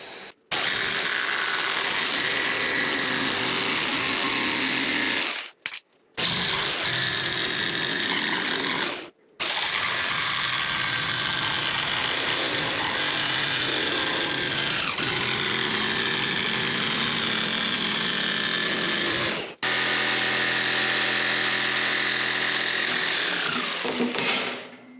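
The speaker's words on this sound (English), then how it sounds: "It's hard, so I can router the edges" A router cutting the edges of a hard expanded PVC sheet gives a loud, harsh, continuous grinding whine in long close passes, broken by a few short pauses, then spinning down at the end.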